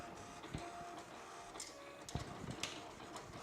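A Silhouette Cameo cutting machine slicing adhesive vinyl, a steady mechanical whir with soft buzzing carriage movements and brief higher whines, heard up close at a moderate level.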